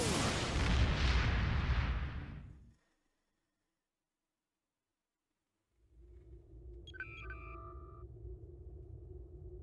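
A starship warping out in the Star Trek Online video game: a loud rushing whoosh fades into silence, then a low sustained hum returns with a short series of electronic beeps.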